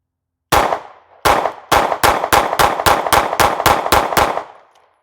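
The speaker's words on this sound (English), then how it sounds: "We shot a nice quick string of fire" Handgun shots ring out at an outdoor range: one shot, a short pause, then a quick string of about ten sharp, loud reports at a fast, even pace, each trailing a brief echo.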